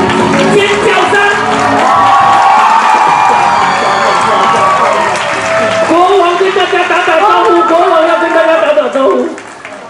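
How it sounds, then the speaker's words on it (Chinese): A large crowd at a children's fairy-tale forest event cheers, screams and applauds loudly and continuously for the arriving mayor dressed as the forest king, with shrill children's shouts rising above the roar before it tapers off at the end. "尖叫声"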